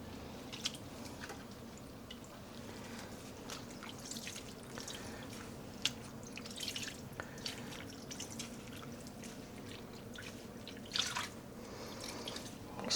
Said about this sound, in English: I will be squeezing out the water a little bit.